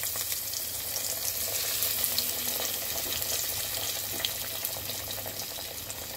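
Pieces of foli fish fry in hot oil in a wok, giving a steady, fairly quiet sizzle with scattered crackles and pops that continues evenly with no one speaking.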